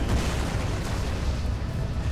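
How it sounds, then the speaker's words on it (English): A small explosion in the video game Call of Cthulhu: Dark Corners of the Earth rumbles as a continuous dense, noisy roar with heavy low-end, steady throughout rather than a single sharp bang. "It's only a small explosion."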